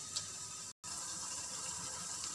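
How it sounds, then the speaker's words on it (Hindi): Roasted eggplant with hot skin is dipped into water to cool it in a home kitchen while baingan bharta is being made. A steady, soft wash of water runs throughout and cuts out briefly once. "ये छिलका गर्म है, इसको ठंडा करने के लिए पानी में डुबोते हैं।"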